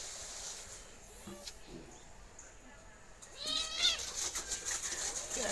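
A cat meows several times in short, rising cries, close by, with faint household noise and a wavering, bleat-like quality to some calls.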